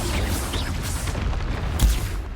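A Confringo fire spell bursts in the Hogwarts Legacy video game, a dense rumbling blast bed capped by one sharp, heavy boom near the end, with no voices.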